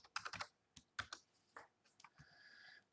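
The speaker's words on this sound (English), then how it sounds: "And if I just type in buffer here," Computer keyboard keys typed in short bursts of clicks, close and fairly quiet, entering a search term into a GIS program's search tool, with brief pauses between groups of keystrokes.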